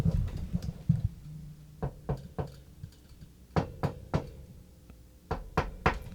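Light taps imitating someone knocking on a front door, gentle rather than banging, come in three quick groups of about three crisp raps each, close and clear in a quiet room.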